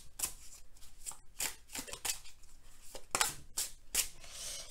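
Nicoletta Ceccoli tarot cards are shuffled and drawn by hand, giving a string of soft, quick riffling and sliding bursts at an uneven rhythm, close and fairly quiet.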